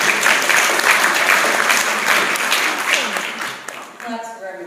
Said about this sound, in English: I'm going to give him a little clap